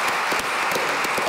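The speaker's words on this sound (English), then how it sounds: "ask all the group to give you a great round of applause" A brief burst of loud, dense crowd applause, many hands clapping together at full strength.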